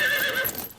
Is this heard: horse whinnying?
yes